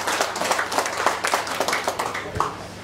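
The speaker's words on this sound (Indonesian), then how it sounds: "untuk tepuk tangan." Audience clapping at a regional development planning meeting in Teluk Wondama, a few seconds of steady, moderately faint applause from a room of people.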